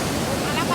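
A waterfall roars as a dense, steady wash of broadband noise, close and loud, with wind buffeting the microphone and no pauses across the brief stretch.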